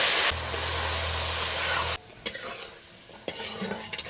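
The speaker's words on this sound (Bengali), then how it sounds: "এবার চিংড়ি মাছটা ভালো করে ভেজে নেব" Prawns fry in hot mustard oil with a loud, steady sizzle for about two seconds, then it drops away into softer crackling and scattered clinks of a utensil against the pan.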